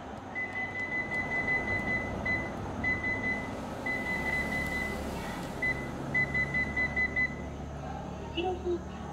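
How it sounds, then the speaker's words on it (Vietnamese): A Panasonic induction cooktop sounds an error alert, a long series of short, evenly spaced electronic beeps repeating in groups for several seconds, with a faint steady hum beneath. "vừa nó kêu là em không tắt bếp trên nên báo lỗi, tự động sẽ tắt"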